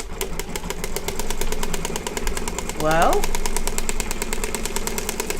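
Embroidery machine stitching onto a thick material, a fast, steady mechanical needle rhythm running throughout, close and loud, with a person's voice briefly over it.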